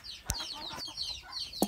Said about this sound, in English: lock Minnie back in the coop